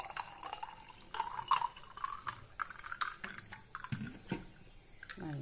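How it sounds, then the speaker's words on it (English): Water trickles and splashes quietly into a glass of mango concentrate and ice, followed by soft clinks and swirling as it is stirred, with no talking. "and mix the water."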